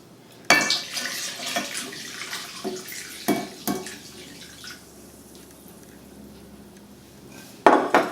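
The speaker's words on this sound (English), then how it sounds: "So now I'm going to stir in 2 cups of milk" A spoon stirs milk into yeast cake batter in a bowl, giving a few sharp clinks and knocks against the bowl followed by softer scraping, with a final cluster of clatter at the end and no talking.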